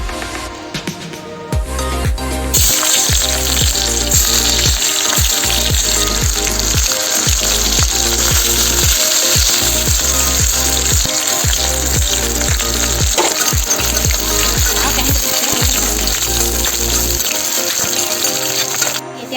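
Onions with ginger-garlic paste, coriander and fresh and dried chillies frying in oil for an Assamese dish, a loud steady sizzle under background music, with scattered clinks and scrapes of stirring throughout.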